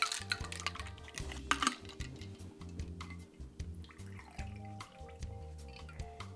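A shot of Fireball cinnamon whisky, Goldschlager and soda water swirled in a glass, giving soft clinks and liquid sloshing close by over a steady low hum, with no talking.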